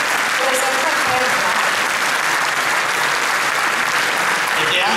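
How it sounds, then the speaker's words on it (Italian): Audience at the 2015 Premio Sciacca ceremony gives Sabrino Zappa a loud, sustained round of applause, a thick unbroken roar of clapping from a large crowd. "Un applauso a Sabrino Zappa per tutti questi anni."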